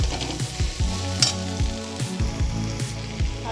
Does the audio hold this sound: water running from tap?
no